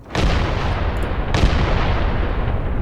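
Artillery strikes in the tactical war game Graviteam Tactics Mius Front land as two heavy, booming blasts about a second apart, close and loud, each trailing into a rumbling roar.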